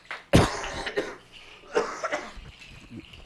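A sharp, loud cough near the start, followed by a couple of smaller coughs and throat clearing, close to the microphone.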